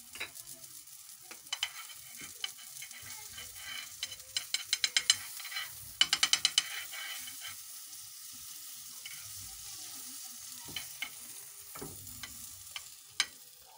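Swahili pizza cooks in butter in a frying pan, a light continuous sizzle broken by runs of quick scraping and tapping strokes from a utensil, close and without voices.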